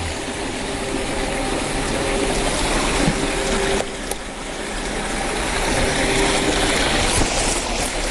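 Small waterfall splashing into a garden pond, a steady close hiss of falling water with a pump-like hum beneath, continuous and fairly loud throughout.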